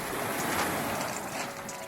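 Ocean waves wash in at the foot of the Étretat chalk cliffs in Normandy, France, a steady broadband rush of surf close by with no break across the short stretch.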